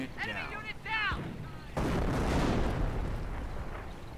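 Mortar half-track in a video game lays down an incendiary barrage: a sharp crack then a loud, sustained roaring burst of fire and blasts, preceded by brief high whistling tones.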